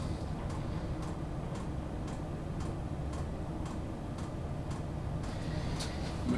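A Chinese diesel heater's fuel pump ticks in an even rhythm about twice a second, soft and close over a constant low fan hum, with no voices.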